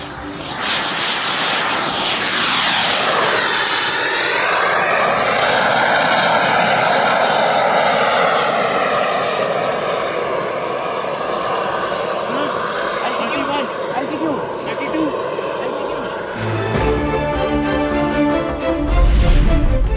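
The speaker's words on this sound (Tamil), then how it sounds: "வெடிப்பொருட்களுடன் பறந்து எதிரி இலக்குகளை தாக்கி தானும் அழியும் வகை விமானம்." A propeller-driven explosive-carrying attack drone aircraft roars past overhead on a test flight, its engine pitch sweeping as it flies by, loud and sustained, then music cuts in near the end.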